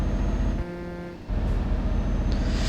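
Loud road traffic rumble with a short tonal honk around the middle, a single brief horn blast over the engine noise.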